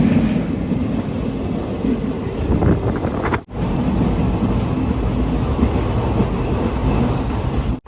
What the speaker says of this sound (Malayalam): ട്രെയിൻ അങ്ങനെ നീലേശ്വരം റെയിൽവേ സ്റ്റേഷനിലേക്ക് ഇതാ എത്തിക്കൊണ്ടിരിക്കുകയാണ്